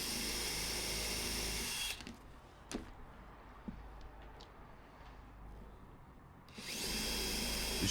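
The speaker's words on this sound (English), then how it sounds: "making pilot holes everywhere." Power drill boring pilot holes in wood for side supports, its loud high whine running at the start and again at the end, with quieter handling knocks and taps in the gap between.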